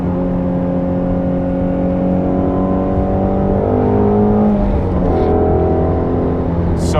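Ford Shelby GT350 V8 engine accelerating on a backroad, heard from inside the car: a loud, steady engine drone that climbs in pitch through the revs, shifts, then builds again.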